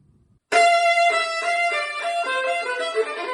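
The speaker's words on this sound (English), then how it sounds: "And Ysaÿe's responses always sound something along the lines of this" A violin enters abruptly and holds a bright, sustained phrase in the style of Ysaÿe's responses in his sonata, loud and close, alone after a brief quiet moment.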